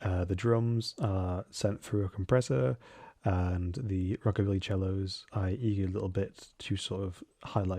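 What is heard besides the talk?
No distinct noise like a dog, phone or traffic.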